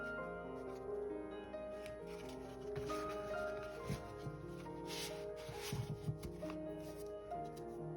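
Tarot cards from a La Corte dei Tarocchi deck, a chunky stack, riffled and shuffled by hand in a quiet room, giving a run of soft papery rustles and brief snaps at close range over about eight seconds.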